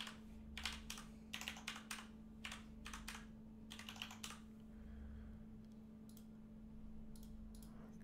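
Credit card details are typed on a computer keyboard, with quick clusters of key clicks coming in bursts and then pausing, near and fairly faint, over a steady low electrical hum.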